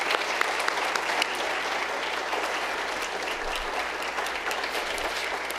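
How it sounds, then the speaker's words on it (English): A large audience applauds the judges at a business plan and elevator pitch competition, a full, sustained wash of clapping that stays steady throughout, loud and enveloping with no speech over it. "judges a round of applause"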